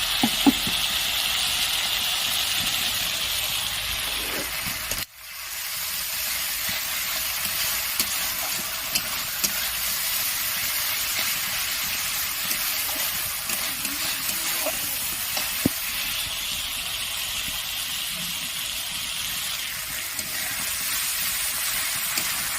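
Spice paste for a begun sundari eggplant dish fries in a pan with a steady, dense sizzle, a brief dip around five seconds before the hiss resumes at full strength, no voices.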